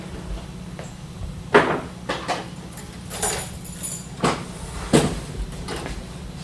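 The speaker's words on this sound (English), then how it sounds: "you can open the front door and pull the riser bed out" Front door of a Universal Laser Systems laser cutter opened and the riser bed slid out, a series of scattered clunks, scrapes and metallic knocks close by over a low machine hum.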